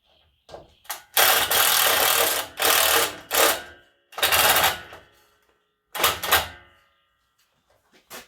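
A cordless power driver with a Phillips head bit drives screws during assembly of a 127cc Cheetah lawn mower: several loud whirring bursts of one to two seconds each, close up, separated by short pauses.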